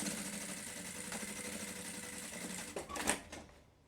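A sewing machine runs steadily, stitching a lunch bag, then stops with a few brief mechanical clicks and a sharp knock near the end before fading out.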